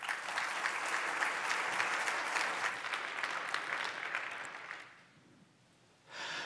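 Dense, steady applause from a PyCon conference audience for a speaker runs for about five seconds, then dies away into near silence before a voice starts talking.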